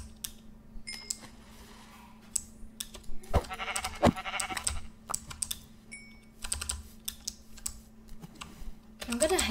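Sheep in the video game Minecraft let out brief bleats amid steady computer keyboard and mouse clicking, with quiet background game sound throughout.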